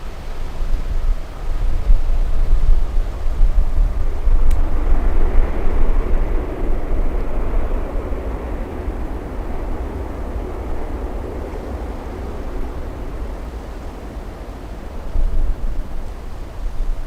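An airliner taking off at Miami International Airport, a loud, broad jet roar that swells and then slowly fades into the distance, with wind buffeting.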